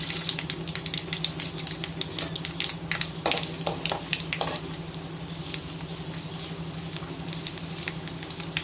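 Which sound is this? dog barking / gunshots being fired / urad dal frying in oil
urad dal frying in oil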